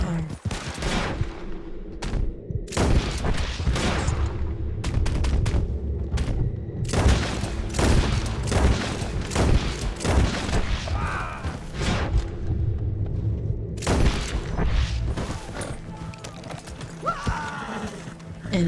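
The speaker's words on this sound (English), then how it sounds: "Run away from gunfire." Gunfire in the video game Red Dead Redemption 2: dense bursts of shots and booming blasts crackle throughout, with rapid volleys, horse hooves and faint voices mixed into the fight.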